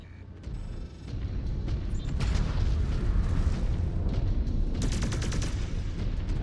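A hostile mech is destroyed in MechWarrior 5: Clans, with a deep, rumbling explosion and crackling blasts rolling over a constant low battle drone, loud and close, with no voices.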